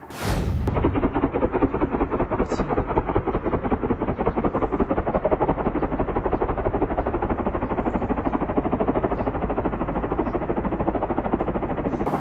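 Israeli missile strike in Ilam, Iran: a sharp initial blast gives way to a sustained, dense roar of rumbling and crackling, loud and unbroken throughout.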